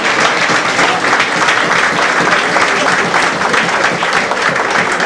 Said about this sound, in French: que nous pouvons applaudir pour l'événement de ce jour.